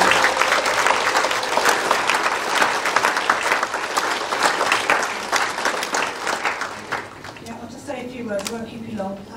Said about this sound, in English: Please join me in a heartfelt round of applause